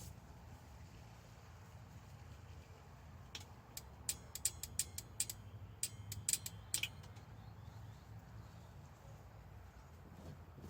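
Automotive relay replaced after water damage clicking as its coil contacts are powered, a burst of sharp small clicks heard faintly against low background rumble.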